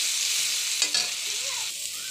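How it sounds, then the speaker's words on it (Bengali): Tomatoes being stirred and fried in a pan for a rui fish curry, giving a steady, close sizzle with a few brief scraping stirs and no talk. "টমেটোর উপর ভালো করে নেড়ে চেড়ে নিব।"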